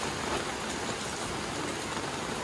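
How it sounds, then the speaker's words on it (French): Heavy steady rain during a family holiday in the Basque Country, a dense uniform hiss of downpour throughout with no voices. "Il va vraiment jamais s'arrêter de pleuvoir."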